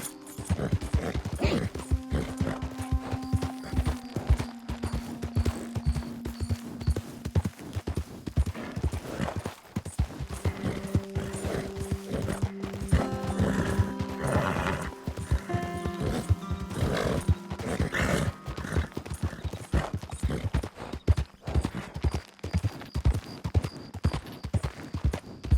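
A horse gallops in the video game Red Dead Redemption 2 on Xbox One: steady rapid hoofbeats throughout, with a few whinnies and neighs rising over the running.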